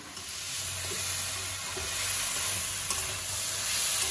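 Vegetables and spices fry steadily in a pan for Gobindobhog rice khichuri, giving a continuous close sizzle with a few faint stirring clicks.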